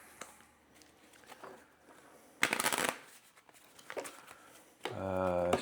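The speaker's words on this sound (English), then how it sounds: "Shuffle the challenge deck" A challenge deck of game cards is shuffled at a tabletop, with crisp riffling bursts and softer handling rustles, ending in a brief faint voice.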